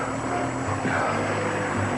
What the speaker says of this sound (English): Lionel, I'm going on that plane.